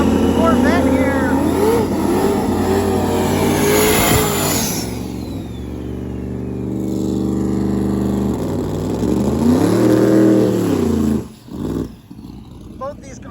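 Drag-and-drive race cars, a Corvette and a car called Thor, roar down the strip with rising engine pitch as revs climb through gears, loud and close at first, then fading, with an announcer talking over them.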